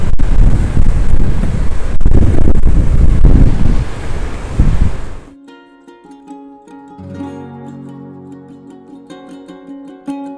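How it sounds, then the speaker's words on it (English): Strong wind buffets the microphone on a Florida state park beach with surf, a loud rough roar for about five seconds that then cuts away to quiet background music. "The wind was so strong I needed to do a voiceover here."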